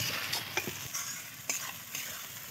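A spoon stirs chopped tomato and cabbage curry masala frying in oil in a pan, giving soft scraping strokes and light clinks over a quiet, steady sizzle, faint and close with no talk.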